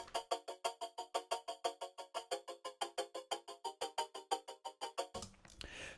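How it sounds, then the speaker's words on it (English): Rhythmic bell-like tonal pulses from a resonator-processed chord sequence repeat in an even, rapid pattern, ringing and resonant, forming a shifting chord sequence before cutting into a brief noisy burst. "I basically created this kind of chord sequence out of it."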